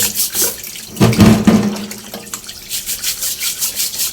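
Water runs steadily from a tap, splashing as oysters are rinsed under it, with a louder gush midway through.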